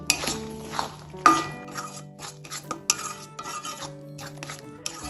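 A spoon clinks and scrapes against a bowl while banana stem is mixed with spices. The contact sounds are close and irregular, with a few sharper knocks.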